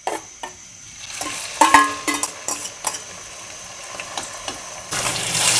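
An omelette of sembung leaves, shrimp and egg fries in oil left from frying chilies, with a soft sizzle, scattered clinks of a utensil against the pan, and a louder burst of frying near the end.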